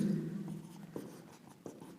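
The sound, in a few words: writing on a board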